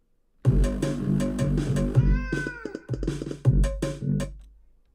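A cat meows several times in a row, close and fairly loud, with drawn-out, wavering cries and short gaps between them.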